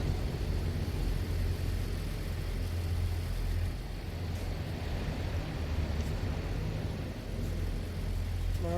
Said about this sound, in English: The truck behind us sounds that beautiful. Of course it's a Volvo.